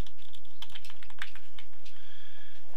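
Rapid typing on a computer keyboard while writing PHP code, a close, steady run of light key clicks with brief pauses and no talking.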